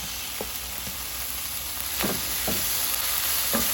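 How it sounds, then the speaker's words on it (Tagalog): Cabbage and spices sautéing in a pan give a steady sizzle, with a few light scrapes and stirring clicks standing out close by. "Gisahin lang ng mga ilang minuto until na mag-soften ito."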